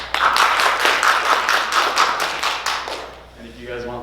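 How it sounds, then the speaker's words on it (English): Round of applause from an audience at a Valentine's Day stage performance, a burst of rhythmic, close clapping that fades out toward the end as a voice begins speaking. "If you guys would like Kaylee, take a seat, give her a round of applause."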